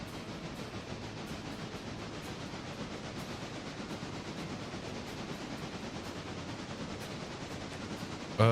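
A train rolls along in the video game Railroader, a steady rumbling clatter with regular rhythmic clicks running evenly throughout at moderate loudness, with no one talking.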